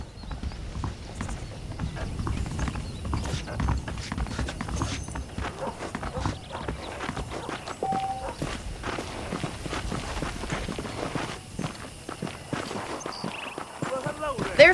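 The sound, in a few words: saddled horses' hooves clip-clopping in video game Red Dead Redemption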